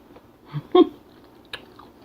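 Someone chews a bite of fried, spiced corn on the cob close to the mic, a few soft moist crunches and bites spread over a quiet two seconds.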